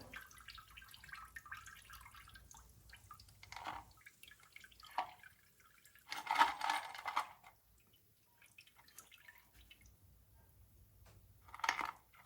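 Water drains from a sink after rinsing Weber IDF 44 carburetor parts and copper fittings, with intermittent gurgling surges and drips in a quiet room, loudest in two bursts near the middle and end.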